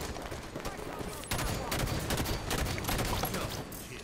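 Rapid gunfire crackles through a first-person shooter match, dense overlapping shots growing louder partway through and continuing steadily to the end.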